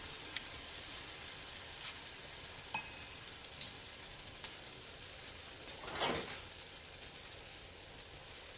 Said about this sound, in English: because this dough really puffs up, it fries so crispy